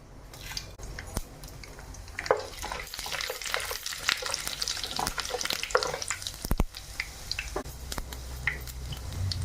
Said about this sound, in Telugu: అందులోకి మినప్పప్పు, ఆవాలు, పచ్చిపప్పు, జీలకర్ర అండి, 1 ఎండుమిరపకాయ, తాలింపులు అయితే వేసుకుందాం.